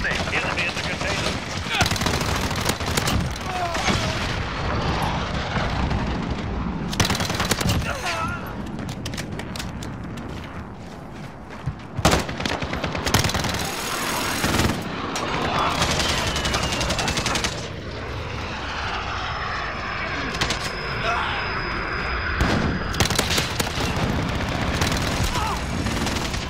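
Dense bursts of automatic gunfire in a shooter video game, probably an Uzi submachine gun, crackle and boom loudly over a busy battle soundscape, with brief shouted team callouts mixed in.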